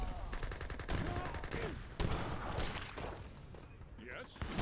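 Gatling guns fire in a video game as rapid bursts of gunfire, mixed with other game effects and heard under continuous commentary.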